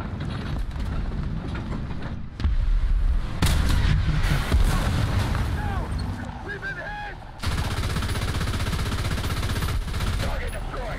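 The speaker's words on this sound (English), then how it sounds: "my machine gun finished off a tank" Sustained machine gun fire in the War Thunder tank battle game, loud dense rattling bursts with booming impacts, continuing over most of the stretch with brief drops between volleys; someone talks over it.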